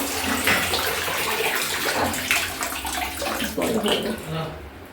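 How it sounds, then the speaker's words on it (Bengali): Tap water running steadily at a kitchen sink, a loud, close, continuous gushing splash, with a voice speaking faintly underneath. "জলটা বন্ধ করে দিই, পরে গিয়ে আবার করবো"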